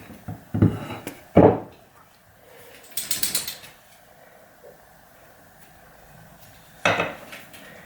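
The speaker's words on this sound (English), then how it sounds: "Scrape all of this out of the bowl." A spoon scraping a sticky mixture out of a mixing bowl at home, heard as a few separate loud scrapes and clatters with quiet pauses between them.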